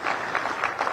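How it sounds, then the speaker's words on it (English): Delegates at a Uganda–South Africa trade and investment summit give a brief round of applause, a moderately loud wash of many hands clapping together. "give a big hand clap to our visitors"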